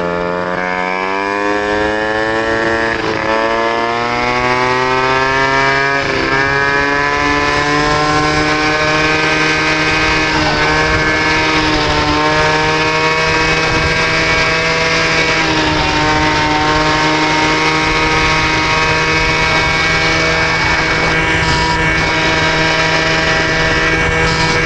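A moped engine fitted with Polini and Athena parts revs hard and steadily up close, its loud buzzing drone rising and settling in pitch for the whole stretch, with no talk.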